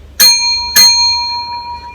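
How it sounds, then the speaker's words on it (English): An antique hotel-style shop bell, heavy and high quality, struck twice in quick succession; each bright metallic ding rings with clear sustained overtones that decay slowly through the second half. "Get a really nice quality shop bell,"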